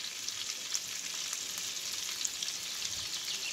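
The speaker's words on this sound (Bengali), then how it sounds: "আলুটা আমি ভালো করে লাল লাল করে ভাজবো" Potatoes with salt and Kashmiri red chilli frying in a pan, a steady close hiss of sizzling oil with faint crackles throughout and no talking.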